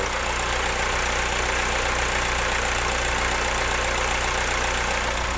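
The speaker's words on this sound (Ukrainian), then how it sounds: "Ну тут чути, що двигун працює чудово." A Volkswagen Caddy engine in good running condition idles with a steady, even hum and no talking, holding constant for several seconds.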